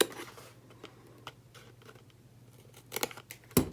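Scissors trim paper card in a few soft, separate snips, spaced irregularly, with a louder pair of crisp cuts near the end over a faint steady hum.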